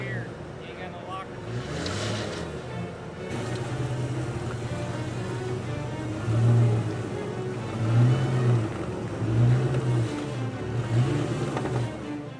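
A Jeep Grand Cherokee engine rumbles and revs in repeated surges as it crawls up rocks on the Poison Spider Mesa trail in Moab, with several louder rev bursts near the end. Voices talk in the background.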